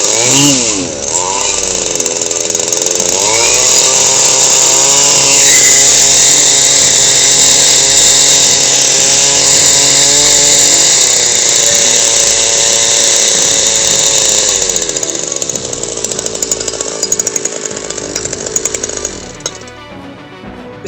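A small two-stroke engine on a field weeding machine runs loud and close, a steady buzzing whine that holds for about twenty seconds, then cuts out abruptly.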